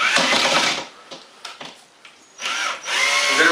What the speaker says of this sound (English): I like power, so I'm going to use my powered screwdriver